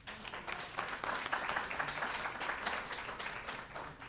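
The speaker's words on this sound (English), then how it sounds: "Thanks for the applause." Audience applause fills a press conference room for a women's swimming program, a steady wash of many hands clapping at moderate distance, holding for several seconds and easing slightly toward the end.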